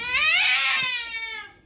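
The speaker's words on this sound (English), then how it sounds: "This is my great cat." A house cat lets out one long, drawn-out meow that rises and slowly fades, loud and close with no one talking.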